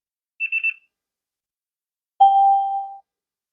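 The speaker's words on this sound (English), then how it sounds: "So that little chime right there, it just indicates that the TWS was paired." Pairing chime of a JBL Stage GoFree portable Bluetooth speaker linking to a second unit: three quick bright beeps, a pause, then one longer lower tone that fades out, clean and close against silence.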